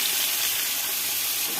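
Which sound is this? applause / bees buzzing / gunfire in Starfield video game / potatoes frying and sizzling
potatoes frying and sizzling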